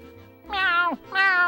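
Two drawn-out cat meows, loud and close, one after the other with a short gap, from the SpongeBob SquarePants: Battle for Bikini Bottom video game.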